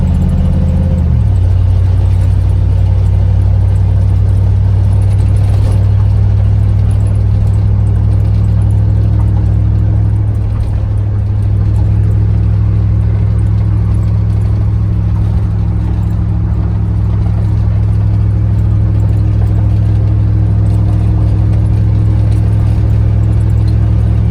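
A car with welded rear leaf spring perches is driven, giving a loud, steady, low engine drone close to the cabin, with one gear change near the start and little variation afterward.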